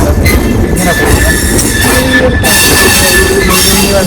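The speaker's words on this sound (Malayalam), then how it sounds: "ട്രെയിൻ ഇങ്ങനെ വളഞ്ഞു പോകുന്ന നല്ല രസമുണ്ട്." Garib Rath Express with new LHB coaches rolling around a curve on the Kochuveli–Yesvantpur route, loud and close, with steady rumbling wheels and repeated high metallic squeals from the flanges, no talk.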